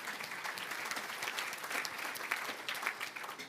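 A room full of people claps steadily at a talk on gender equity in sport, with many hands together at a moderate, even level, heard from a slight distance.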